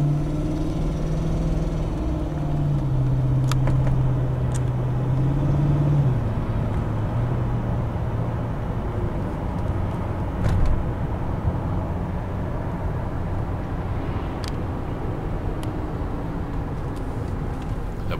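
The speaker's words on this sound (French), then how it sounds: "Le ralenti est d'une stabilité absolument parfaite et le moteur fonctionne sans hésitation" A BMW 535i engine idling steadily: a continuous low hum with a smooth, even tone and no hesitation, steady in level throughout with faint background noise.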